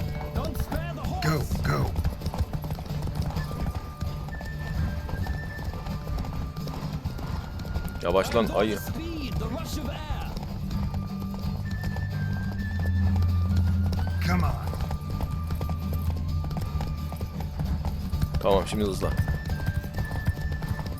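A horse gallops in The Witcher 3: Wild Hunt, with rhythmic hoofbeats running steadily throughout, a few whinnies, and someone talking over the ride while game voices chime in.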